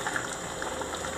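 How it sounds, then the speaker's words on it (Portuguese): Fish moqueca stew bubbling in a clay pot after the heat is switched off, a steady soft simmer of small popping bubbles that continues evenly and close throughout. "A panela está desligada e continua borbulhando, porque isso, a panela de barro, ela mantém o calor."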